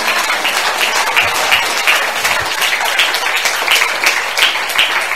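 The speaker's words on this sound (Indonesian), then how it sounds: "berikan tepuk tangan buat Tuhan kita." A church congregation at an apostolic school service gives a loud, sustained round of applause to God, many hands clapping close and dense without a break, with no talking over it.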